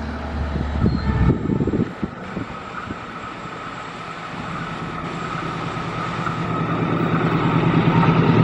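The Taksaka passenger train rushes past on a curve at high speed, a steady loud roar of wheels and rail noise that builds and grows louder toward the end, with no talk.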